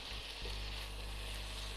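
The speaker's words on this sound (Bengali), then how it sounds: "এবার আমি এর মধ্যে অ্যাড করে দিলাম 4টি চেরা কাঁচা লঙ্কা।" Four slit green chillies hitting hot oil in a pan, giving a steady, loud sizzle with a brief thump at the start as they go in.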